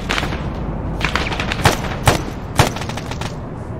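Gunfire in the military shooter Arma 3 during a Livonia battle: a rumbling background of distant shooting, then three sharp, loud shots spaced about half a second apart, with no voices.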